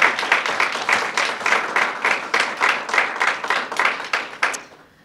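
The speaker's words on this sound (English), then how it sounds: "Another round of applause for James." Applause from an audience at an educators' showcase, a dense patter of many hands clapping steadily for several seconds before fading out.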